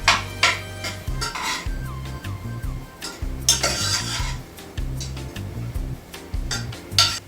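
Peppers sautéing in a pan on the stove are heard under a bright, rhythmic clatter of a utensil scraping and tapping the metal pan, with short bursts of sizzle in between.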